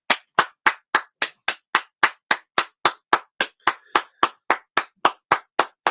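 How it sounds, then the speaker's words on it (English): Steady hand clapping, about twenty sharp even claps at a brisk regular rhythm, close and loud, with nothing else heard between them. "I'm clapping for the sentiment in itself"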